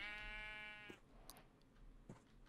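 A Minecraft sheep bleats once with a wavering, nasal cry at the start, followed by a couple of soft clicks and faint blocky game sounds.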